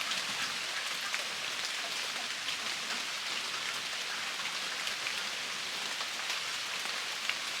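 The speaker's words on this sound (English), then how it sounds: "We needed the rain," Steady rain falls in an outdoor yard with ducks, a continuous, even hiss of drops that runs throughout with no voices.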